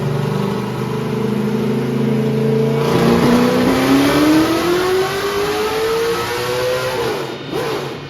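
A V8 drift Corvette engine making over 1000 HP revs during a dyno pull, the loud engine note climbing steadily in pitch over several seconds before dropping off at the end.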